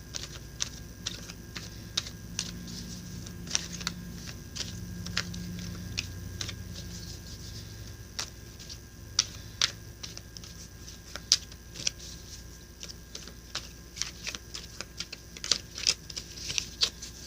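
Cards are shuffled and riffled in quick, crisp bursts of clicks, close by and quiet, with short pauses between flurries.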